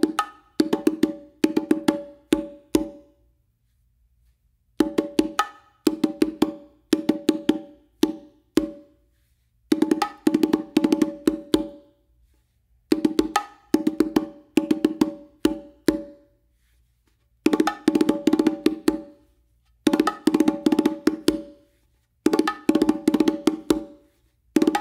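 Bongo speed exercise built on open tones, played in quick bursts of rapid, crisp strikes separated by short silent pauses, repeating for roughly twenty seconds, close and clean with no voices.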